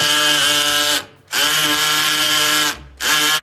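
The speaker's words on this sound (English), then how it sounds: "And the drilling." A power drill runs loud in a TV sitcom scene, whining steadily in two long bursts with a short gap, then starting up again at the end.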